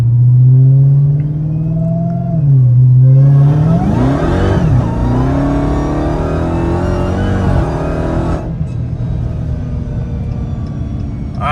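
A 1000 hp wide-body Dodge Hellcat accelerating hard, a loud deep engine rumble climbing in pitch through the revs, then shifting and roaring on at full volume, heard close from inside the car.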